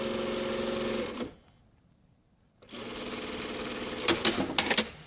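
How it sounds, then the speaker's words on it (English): Sewing machine stitching a jacket's pocket lining onto the pocket facing, a steady close whirring run that stops for over a second of near silence, then resumes with a few sharper clacks. "So we're sewing the pocket lining onto the pocket facing here."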